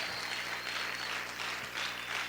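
A church congregation applauds loudly and steadily in a large hall during a sermon on the New Covenant, a dense wash of many hands clapping with no voices on top.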